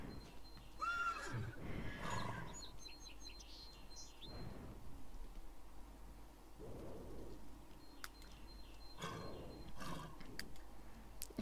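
Horses in a stall whinny and neigh in several loud bursts, with rustling movement and faint bird chirps in between.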